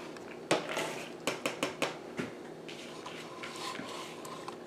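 Clattering clinks and knocks of a cooking pot holding tomatoes being handled on a stove, a burst of sharp metallic hits followed by softer rustling, close and fairly quiet with no talking.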